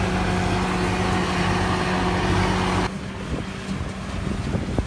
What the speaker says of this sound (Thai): โอ้วันนี้ลมแรงครับ ลมหนาวแรงมากเลยวันนี้ครับ